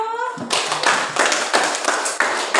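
A short voice is cut off by a burst of loud clapping from a class group, sustained with uneven rhythm for a couple of seconds.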